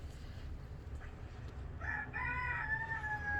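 An ornamental rooster crows once, a clear rising-then-held call that starts after a short pause, close and fairly quiet over low background rumble.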